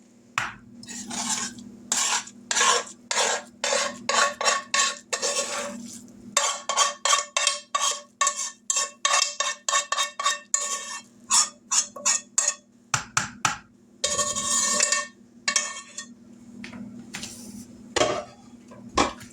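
A spoon stirs cooked Rice-A-Roni into beef in a pan, making a busy run of scraping, clinking strokes in quick irregular bursts, close and fairly loud, with no voices.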